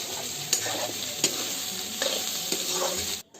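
Fenugreek seeds and onion sizzle in hot oil as a tempering for a bari and potato curry, a loud steady frying hiss broken by a few sharp stirring scrapes, close up, before it cuts off abruptly.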